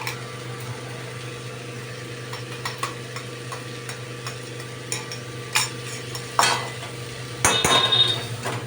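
A spoon scrapes and clinks in a pan as vegetable paste is stirred and sautéed, with a little water added. Soft irregular taps sit over a low steady hum, with a few louder knocks near the end.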